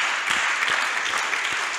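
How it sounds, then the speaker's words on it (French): A church congregation celebrating seven years claps in steady, dense applause, a crowd of hands sounding fairly close and filling the room throughout. "Est-ce qu'on peut acclamer les Seigneurs pour ça?"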